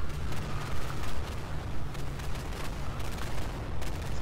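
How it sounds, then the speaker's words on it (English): Bombs exploding in a WWII video game, a dense barrage of booming blasts and gunfire-like bursts rolling continuously, loud and chaotic throughout with no pause. "It's a lot of bombs."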